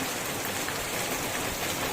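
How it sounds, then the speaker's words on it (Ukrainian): Heavy summer downpour pours steadily onto surfaces outdoors, a dense, even rush of rain close by with no pauses and no talk. "Як небо прорвалося. Оце дощ."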